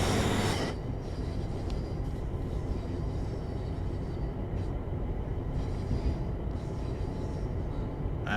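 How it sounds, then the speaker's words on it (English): Class 350 electric multiple unit on the West Coast Main Line in Train Sim World 5, its wheels rolling loud and steady with a brief high flange squeal at the start as it rounds a curve near a depot. "Nice flange squill as well as we're coming round"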